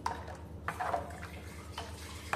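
Water poured into a pot of cooking sago khichdi, a few short splashing pours with quiet gaps between them, close and fairly soft.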